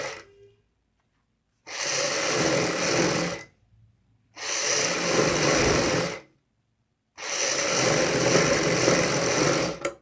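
Sewing machine stitching along the pointed tip of a kurti collar, fabric folded over buckram, in three sustained bursts of whirring stitching separated by short silent pauses, close and loud.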